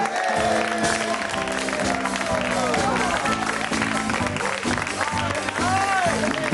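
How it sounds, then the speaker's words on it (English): Studio audience clapping for a singing duo act at a talent contest, dense applause under a prominent music-like tonal bed with some speech over it throughout. "Give them applause!"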